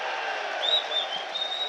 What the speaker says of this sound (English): The Sunderland crowd cheer them on.